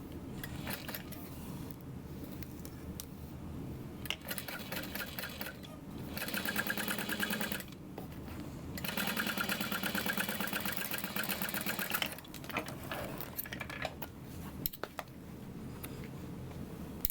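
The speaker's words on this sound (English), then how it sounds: "We're going to sew that together at a 3/8 of an inch seam allowance." A sewing machine stitches a 3/8 inch seam on a bag, running in several steady whirring bursts separated by brief pauses, close and fairly quiet.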